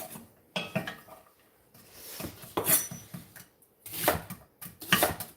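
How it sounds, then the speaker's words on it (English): A knife chops through an onion on a cutting board in a home kitchen, landing in irregular clusters of close, crisp knocks with short pauses between bursts. "just keep on chopping this onion"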